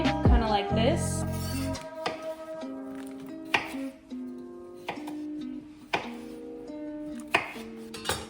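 A knife chopping food into quarters on a cutting board gives sharp, evenly spaced knocks, about one a second, while someone talks over them in a home kitchen.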